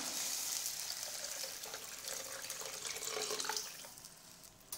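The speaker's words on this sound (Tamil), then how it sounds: "இது கூட மிக்சி ஜார் கழுவுன தண்ணி கொஞ்சம் ஊற்றிக்கலாம்." Water pours and splashes into a pan of pepper kuzhambu, a soft steady gush with light sizzling, fairly faint and without voices.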